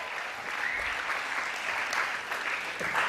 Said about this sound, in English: can we have a round of applause for Mr. Michael Briley?